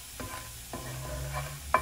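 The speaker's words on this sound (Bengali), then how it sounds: "এটাকে লাল লাল করে ভেজে নেব।" Red chilies frying in oil in a pan, a low steady sizzle broken by a few soft stirring scrapes, close and quiet with no voices.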